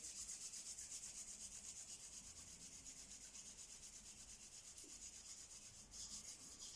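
Hands rubbing together in a quiet restorative exercise session, with a faint, continuous, rhythmic swishing of skin on skin and no voices.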